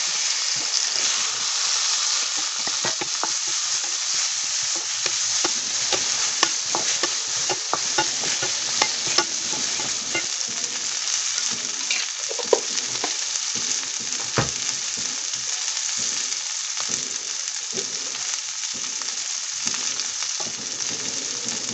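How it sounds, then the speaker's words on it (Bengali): Panch phoron spices and turmeric frying in hot oil, a steady bright hiss with scattered crackles and stirring scrapes, close and continuous with no talking. "দিয়ে এটাকে আমি ফ্রাই করব একটু"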